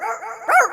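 A voice imitates a dog barking, giving a short run of yappy bark-like calls that swell into one louder, higher yelp near the end, close and clear.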